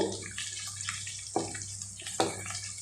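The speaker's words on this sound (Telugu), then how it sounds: "పులుసు తీసేసుకున్నామండి పులుసు వేసేసుకుంటున్నాం" Soaked tamarind extract poured into a cooking pot for a brinjal and masala vada stew, a soft continuous liquid trickle with two brief splashy bursts, heard close and alone.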